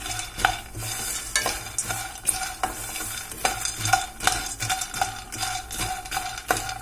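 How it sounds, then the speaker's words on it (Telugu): Phool makhana roasting in ghee in a pan, stirred with a spoon in steady scraping strokes over a soft sizzle, close and continuous, with no voices. "రోస్ట్ గా నేతిలో వేయించుకున్నాను"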